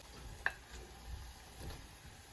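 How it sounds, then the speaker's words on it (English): Meat, onions and garlic fry in oil in a pot for an eggplant meat stew, a quiet, steady sizzle close by with one faint clink near the start. "we're going to cook until the meat is brown and the onions get cooked"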